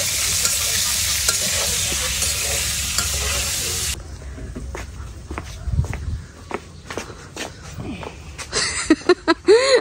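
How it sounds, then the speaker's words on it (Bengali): Garlic being stir-fried in a pan for a mashed garlic dish, with a loud sizzle and scraping stirs at first, then scattered clatter, footsteps and voices in a home kitchen. "মা হলো রসুন টালতেছে রসুন ভর্তাটা করবে"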